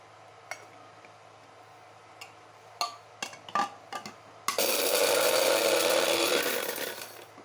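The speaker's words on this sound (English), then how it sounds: "I'm going to put them in my little spice thing right here and grind them up." A small electric spice grinder whirs loudly into action grinding berries, a harsh steady buzz that tapers slightly, after a few light clicks and taps as it is loaded and closed.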